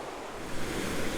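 A river rushes steadily along a backpacking trail, a continuous broadband wash of flowing water heard at a modest distance, with some wind noise mixed in and no voices.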